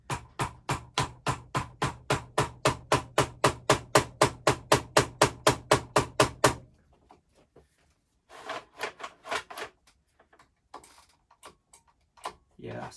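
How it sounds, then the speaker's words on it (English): Rubber or plastic mallet tapping a throttle tube onto a motorcycle handlebar while fitting Oxford heated grips: a steady run of about thirty close, sharp knocks in even rhythm, then a pause followed by brief talk. "I kind of want to tap it on with a hammer. Maybe I'll try that with a mallet."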